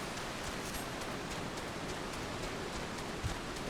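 Rain falls in the Final Fantasy XIV video game, a steady, even rush of fine drops that stays soft and continuous with no voices.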